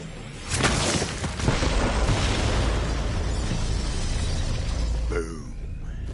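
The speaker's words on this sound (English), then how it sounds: "The explosion echoed through the forest" A Borderlands 3 bomb blast in a forest hits with a sharp, loud burst, then a long, heavy roaring rumble that holds for several seconds before cutting off abruptly.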